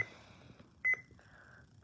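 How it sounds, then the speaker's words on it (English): A single sharp electronic beep rings out briefly from a Midland WR300 weather alert radio alarm, standing alone against faint background hiss. "I have it on the beeping sound"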